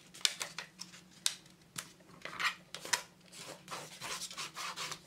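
Paper being scored with a tool to cut a groove for a three-part flipbook, heard as close, dry scraping strokes in irregular bursts, each sharp rasp followed by softer rubbing, with no talking.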